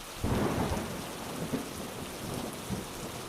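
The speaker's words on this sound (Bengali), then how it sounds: "তারপর ঝমঝম করে মুষলধারে বৃষ্টি নামল" Heavy rain pouring down with rumbling thunder, used as an audiobook sound effect: a steady dense hiss of rainfall with low thunder rolls, moderately quiet and continuous.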